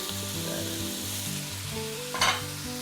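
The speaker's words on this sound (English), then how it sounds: "Just a bit of oil in the pan, and then add your onions, just diced, some sliced carrots, some garlic, sliced," Diced onions, sliced carrots, sliced garlic and ginger sizzle steadily in a little oil in a pan, with a steady hiss and a short, brighter clatter of stirring near the end; no one talks.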